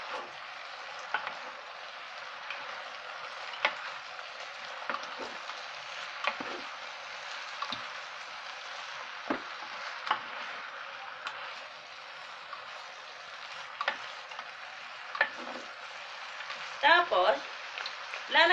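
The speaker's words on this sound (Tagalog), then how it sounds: "Tapos, haluin natin." Pancit bihon noodles stirred in a pan, giving a steady soft sizzle with scattered scraping and clinking strokes from the utensil, continuing throughout and a little louder near the end.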